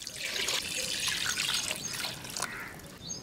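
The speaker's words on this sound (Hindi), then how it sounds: "इसमें 1 लीटर पानी शामिल करना है" A litre of water is poured into a pot holding beef nalli (marrow bones) for a pressure-cooked stew, giving a steady close trickle and splash for about three seconds with no talk.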